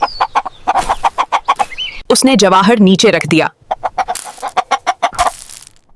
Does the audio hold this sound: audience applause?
no